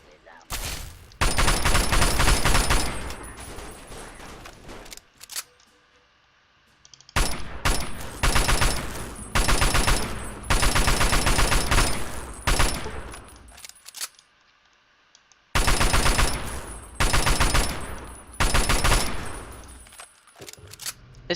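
Bursts of assault rifle fire in Fallout 3, loud rapid volleys in three long strings separated by short pauses, with faint metallic clinks between bursts.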